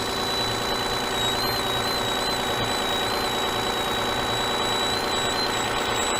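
A 2004 Toyota Avalon engine idling with a possible belt noise, a steady close mechanical hum with a thin high whine running through it the whole time.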